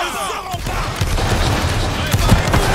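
A line of soldiers fires a musket volley in the Roblox Waterloo battle game, a loud, close, rolling crackle of many overlapping shots that runs through the whole moment, with voices faintly underneath.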